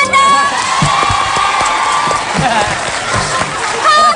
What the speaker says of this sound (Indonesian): Kita lagi bercanda tadi, tepuk tangan dong.